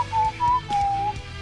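Someone whistles three short, clear steady notes in a row, close to the microphone, with faint low background hum.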